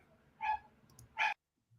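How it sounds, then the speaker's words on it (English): Two sharp dog barks, close by, a short pause between them, over faint background noise. "Get rid of the barking dog."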